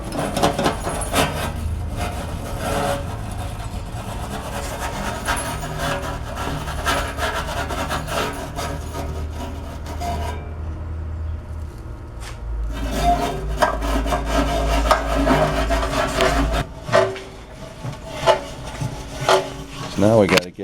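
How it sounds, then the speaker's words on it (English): A brush scrubs loose rust inside an FVIR water heater, a continuous close, gritty rubbing and rasping with uneven strokes and occasional knocks toward the end. "kind of force that brush in that hole so we can brush the top of this plate"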